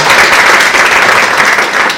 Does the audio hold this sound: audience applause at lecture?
yes